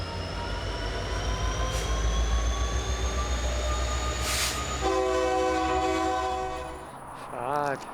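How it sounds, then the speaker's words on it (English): A distant freight train horn sounds steadily over the rumble of a passing train, long sustained blasts with a rising squeal near the end. "I finally heard a train horn in the distance"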